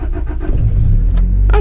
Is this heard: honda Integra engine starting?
yes